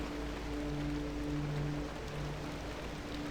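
Steady rain heard from inside a vehicle in the video game Pacific Drive, a soft continuous patter with faint low hum and tonal drones underneath, no talking.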